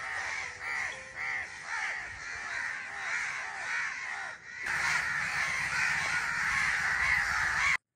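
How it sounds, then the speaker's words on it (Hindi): A flock of crows caws insistently from the trees, many overlapping calls forming a dense, loud chorus that continues without pause. "लेट्स सी कौवों की कौम किस तरह से इकट्ठी हो चुकी है।"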